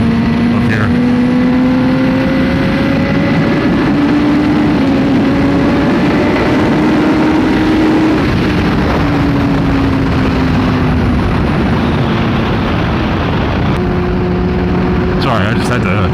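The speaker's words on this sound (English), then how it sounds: "There seems to be a lot of wind up here." Heavy, constant wind roar buffets a rider on a Kawasaki ZX-10R motorcycle, loud and unbroken throughout, with engine drone rising and falling underneath and some talking mixed in.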